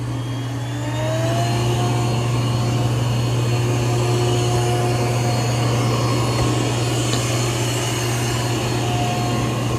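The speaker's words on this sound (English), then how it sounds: "Okay, so I've got it vacuuming on maximum suction." An ECOVACS DEEBOT N10 Plus robot vacuum runs on maximum suction, giving a loud, steady motor drone with a constant tonal whine throughout, and no one speaks.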